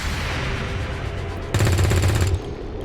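Shotgun fire in the XCOM 2 video game: a loud, rattling burst of rapid blasts lasting under a second cuts through a steady noisy combat background, with no voices.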